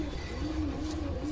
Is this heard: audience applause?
no